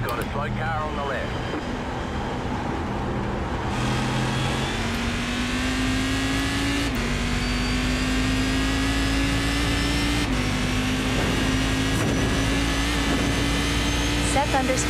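A sim racing car engine holds a steady droning pitch that climbs gradually as it accelerates through gear changes, continuous and fairly loud, heard without any talking.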